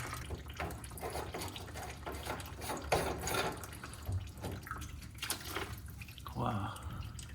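Water running and dripping from pipes inside a wall into a bucket under a sink during drain cleaning, a faint continuous trickle with someone talking over it.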